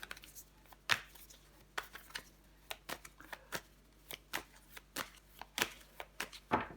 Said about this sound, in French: Donc, on va recouvrir des cartes.